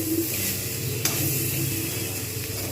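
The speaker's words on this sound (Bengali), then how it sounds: "এটা ভালো করে আমি ভাজতে থাকবো" Spinach frying in a pan, a steady soft sizzle with occasional light stirring scrapes, fairly quiet and continuous with no talk.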